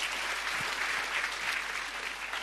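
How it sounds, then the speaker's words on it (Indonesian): Church audience clapping at a sermon, a dense, steady burst of applause filling the whole moment at a moderate distance, with no speech over it. "beri tepuk tangan sekali lagi betul"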